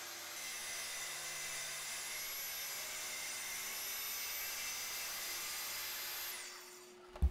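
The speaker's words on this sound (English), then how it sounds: "get them set up on these sawhorses and use the track saw" A track saw cuts a thin strip off oak boards clamped on sawhorses: a steady high motor whine holds for several seconds, then winds down near the end, followed by a short knock.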